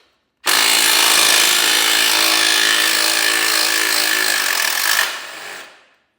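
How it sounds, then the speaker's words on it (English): An impact wrench pulls a bolt on the suspension lowering link of a 2025 BMW S1000RR motorcycle. It gives one loud, sustained burst of about five seconds that then winds down, close by and with no voices. "It should be loose enough where this can pull out with the impact now."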